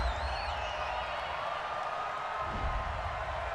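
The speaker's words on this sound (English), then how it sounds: "Well, the crowd doesn't like that." A big stadium crowd at an NFL game between the Chicago Bears and Green Bay Packers roars in a steady, dense wash of noise after a penalty flag wipes out a fourth down, with no clear voices breaking through.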